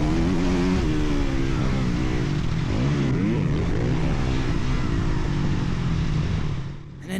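A Kove dirt bike engine roars loud and close on a motocross track, the pitch climbing and shifting as it revs hard down a straight, then briefly dipping near the end.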